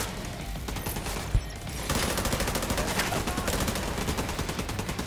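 Rapid automatic gunfire from a shooter in The Division 2 crackles in dense bursts, a brief quiet gap early on before sustained fire resumes loudly through the rest.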